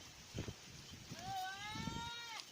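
Goats bleat on a Thai farm, one clear wavering call rising and falling near the end, with faint rustling and low background noise before it.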